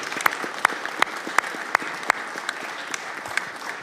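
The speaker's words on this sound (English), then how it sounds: "Give him a round of applause." An audience in a congressional hearing room on the Navy budget gives a short round of applause. Sharp, fairly even claps come roughly three times a second over a light background clatter and thin out toward the end.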